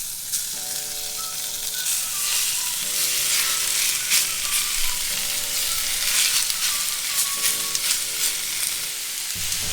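Fatty wild boar meat fries in a very hot pan without added oil, a loud, continuous close sizzle with occasional stirring scrapes, while soft tonal music plays underneath.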